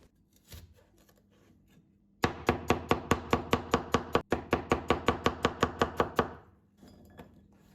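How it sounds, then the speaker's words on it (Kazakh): A knife chops bell pepper on a board in a fast, even run of about twenty crisp strokes, close and loud, with a few light taps before and after. "Келесі болгар бұрышында жақсылап турап шығамыз"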